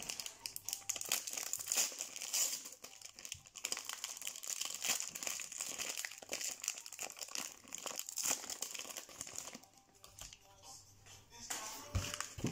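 Plastic wrappers on trading card packs crinkle and crackle as the packs are torn open, with steady close rustling, a few taps and handling noises, and brief quiet gaps between bursts.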